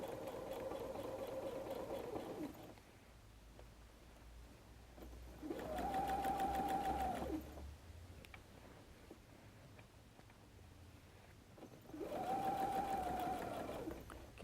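A sewing machine runs slowly along a messenger bag seam toward its end, sounding as three separate close bursts of steady whirring separated by quiet pauses.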